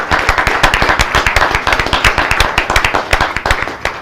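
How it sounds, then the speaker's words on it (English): An audience at a Weatherford College Board of Trustees meeting gives a round of applause, a close, steady patter of clapping hands with no voices over it. "please join me in giving a round of applause to our distinguished Weatherford College Board of"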